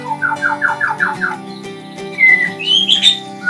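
A white-rumped shama (murai batu) sings a run of five quick, repeated rising whistled notes, then breaks into higher, looser warbling phrases. The bird is close and clear, with no talking.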